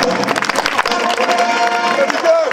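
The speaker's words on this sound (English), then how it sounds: "A big round of applause for David Lambert" An outdoor audience at Lincoln Castle applauds David Lambert during a festival launch event, steady dense clapping from a sizeable crowd with some voices mixed in.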